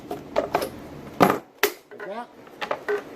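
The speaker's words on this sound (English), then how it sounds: "take the utility knife again and put a hole in it between the 2 marks" Utility knife punching a hole in an aluminum can for a backpacking alcohol stove, a few sharp metallic clicks and scrapes in short bursts, close up and fairly quiet.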